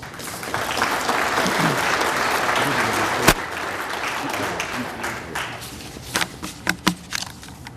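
A school retirement tea audience applauds the Board of Education president with sustained, dense clapping from a crowd indoors that thins toward the end, leaving a few scattered, louder individual claps.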